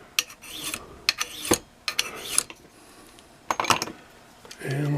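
A small sharpening stone rasps along the blade of a tree branch lopper in a few quick, uneven strokes, close and dry, with short pauses between swipes and no speech.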